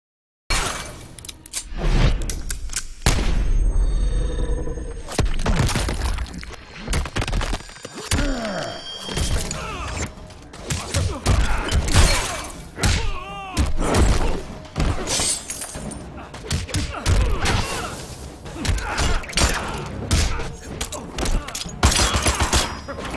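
Gameplay from the fighting game Mortal Kombat X, with the character Kai, is heard as a dense run of punches, smashes, shattering hits and gunshot-like bursts. Whooshes and game effects come in quick, uneven bursts, loud and close for the whole stretch.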